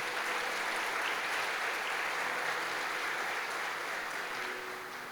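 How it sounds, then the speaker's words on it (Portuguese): A church congregation applauds loudly together, steady rushing clapping that holds strong and then eases slightly toward the end. "Aplauda o Senhor bem forte."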